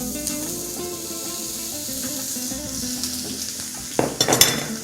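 Vegetables and courgette frying and being stirred in a pan, a steady close sizzle with soft clinks of a utensil against the pan near the end.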